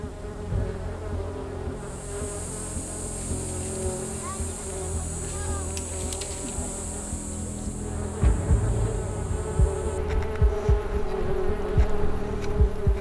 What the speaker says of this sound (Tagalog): mabilis na kumalat ang mga bubuyog sa iba't ibang bahagi ng gubat